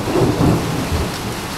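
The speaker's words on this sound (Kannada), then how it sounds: "ಮಿಂಚಿನ ವೇಗ, ಮಿಂಚಿನ ಬೆಳಕು ಮತ್ತು ಶಬ್ದನ ಕೇಳಿಸ್ಕೊತಾ ಇರ್ಬೋದು." Thunder rolls through a heavy, windy rainstorm in Siddapura, a deep rumbling swell that rises and fades over steady pouring rain, loud and close.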